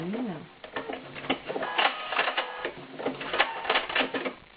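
A sewing machine runs a zigzag stitch in free-motion embroidery, giving rapid mechanical clattering in uneven bursts that speed up and slow down, close and fairly loud.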